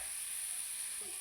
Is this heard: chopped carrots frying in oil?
yes